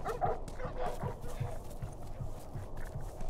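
Dogs bark repeatedly in The Last of Us Remastered video game, fairly faint and muffled, a quick irregular series of woofs amid game background noise.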